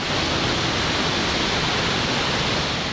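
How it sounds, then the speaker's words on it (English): Murchison Falls thundering with a steady, loud, unbroken wash of falling water, a dense hiss-and-rumble roar that stays even from start to finish. "The rainbow formed by the thundering falls is legendary."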